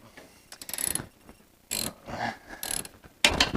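A socket wrench ratchets during a transmission swap on a Geo car, giving several short bursts of close mechanical clicking separated by brief pauses.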